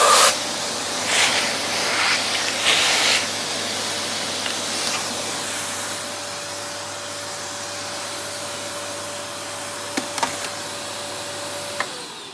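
A high-power Rowenta vacuum cleaner runs steadily throughout with a broad, constant hiss and a fixed motor whine, close and fairly loud, with a few brief clicks near the end and no talking.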